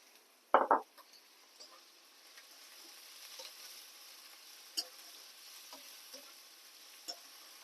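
Salt and tomato go into a pan of broad beans cooking for curry: one loud clunk as they drop in, then a faint, quiet background sizzle with a few light spoon taps.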